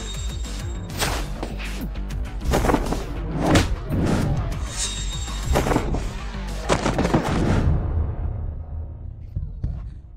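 Gunfire rings out as a string of sharp, heavy blasts with booming tails, spaced irregularly over about ten seconds and fading out at the end.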